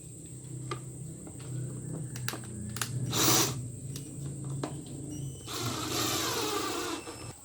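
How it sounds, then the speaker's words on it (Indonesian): A steam jet cleaner's cover gets bolted back on, making short mechanical whirs and ratcheting bursts from a small driver between quieter clicks and handling noise, fairly close and moderately quiet. "Oke, kita akan baut dulu"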